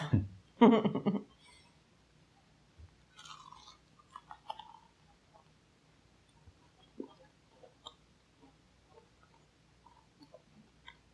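Someone bites into a Lotte K Chefood Crispy Crunch Korean corn dog with a loud, close crunch, followed by softer scattered crunching and chewing sounds in a quiet room.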